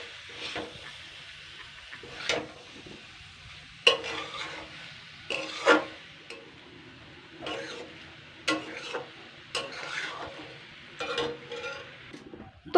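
Pieces of rolled flatbread dough are fried over high heat and stirred, a soft low sizzle punctuated by repeated sharp spatula scrapes and clinks against the pan at irregular intervals.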